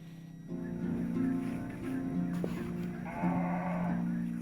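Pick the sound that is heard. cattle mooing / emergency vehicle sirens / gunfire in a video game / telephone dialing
cattle mooing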